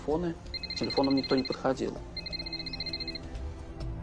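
A cell phone rings unanswered with repeated bursts of a trilling electronic ringtone, moderately loud, while voices talk over the start of the ringing.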